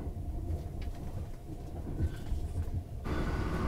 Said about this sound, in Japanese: 列車今、 片田駅を通過しているところですね。